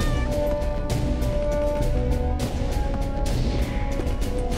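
A cat meowing in the BoBoiBoy Galaxy cartoon, aboard a space pirate ship, heard over steady loud background music and effects that run through the whole stretch.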